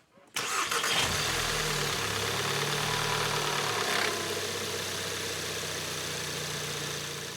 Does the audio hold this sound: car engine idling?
yes